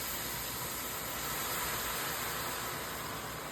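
Chicken sizzling in a pan as fish sauce goes in, a steady broadband hiss and crackle of frying that holds evenly throughout, close and fairly quiet with no talking.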